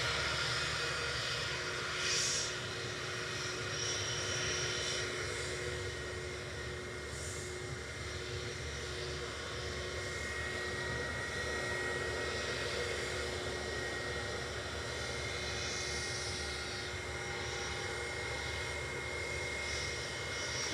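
An SAS airliner departing Manchester Airport for Copenhagen produces a steady, distant engine roar that stays broad and even for about twenty seconds, with no talk over it.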